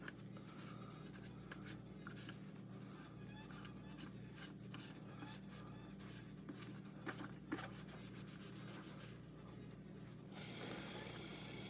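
Quiet, steady rubbing and scratchy friction as a magic eraser scrubs a doll's face, with small irregular scraping strokes over a faint background hum and no talking.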